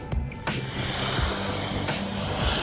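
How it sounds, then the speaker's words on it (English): A SAAB 340B Plus turboprop research aircraft arriving at an airport, a steady loud engine roar with broadband rush that holds throughout, with a few brief louder bursts and no talk. "Our aircraft has arrived at the airport"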